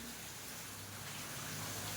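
Heavy monsoon rain pouring in Baramati, a steady, dense hiss of falling water with no breaks, fairly quiet and unbroken, no voices.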